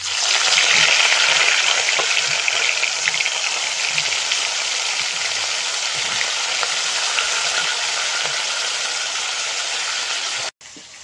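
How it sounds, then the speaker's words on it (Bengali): Pieces of katla fish fry in hot oil with a steady, loud, dense sizzle that holds evenly throughout, with faint occasional clinks, then cuts off briefly near the end. "মাছগুলো ভেজে নেব।"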